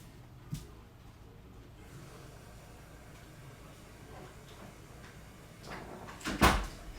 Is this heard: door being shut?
yes